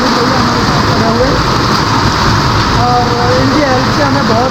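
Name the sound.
rain falling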